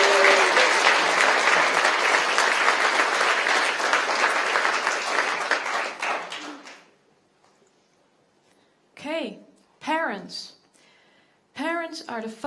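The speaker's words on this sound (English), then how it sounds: "A huge round of applause for our last speaker of today," A TEDx audience at Erasmus University Rotterdam gives a sustained round of applause that fades out after about six seconds, followed by a few short spoken phrases.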